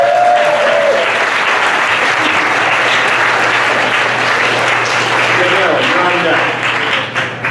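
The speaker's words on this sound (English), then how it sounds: "Applause." A hackathon crowd in San Francisco applauds at a terrible-ideas event, a dense, loud, sustained clapping that holds steady and then thins out near the end, with faint voices mixed in.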